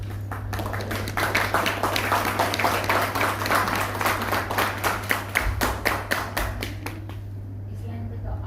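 Audience clapping at a Hindi-language marketing seminar, a dense patter of many hands sustained for several seconds before thinning out, with a steady low hum beneath and a voice speaking over it.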